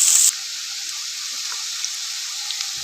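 About 200 grams of cabbage frying in a pan for a Chinese rice dish, a loud hiss as it hits the oil, then a steady soft sizzle with faint stirring clicks.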